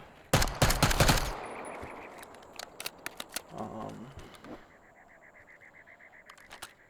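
Gunfire from the Black Ops 6 video game: a loud rapid automatic burst up front, then scattered single shots and short clatters that fade toward a quieter tail.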